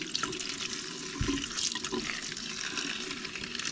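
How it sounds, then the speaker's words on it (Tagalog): A cauliflower mushroom is rinsed under a running tap, a steady, fairly quiet rush of water with no voices. "And i-ano natin to sa tubig para matanggal yung kanyang mga dirt na andito sa loob."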